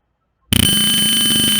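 After a brief silence, a steady high-pitched electronic buzzer tone in a TinkerCAD circuit simulation starts suddenly with a few quick pulses, then holds continuously.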